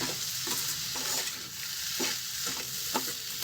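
A moong dal halva mixture sizzles and roasts in a pan, with a spoon scraping and stirring at an even rhythm over a constant frying hiss, fairly quiet and close.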